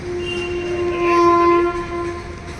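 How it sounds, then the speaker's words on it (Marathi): A train rolls past nearby with a sustained horn blaring over the rumble of the cars, loud and continuous. "खूप छान ट्रेन देखील जातात इथून"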